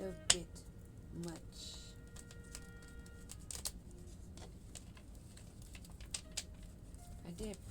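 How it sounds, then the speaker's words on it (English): A deck of cards is shuffled by hand in quick soft riffles and taps, scattered flicks over a quiet room, with no talk. "I want to make sure I get these shuffled."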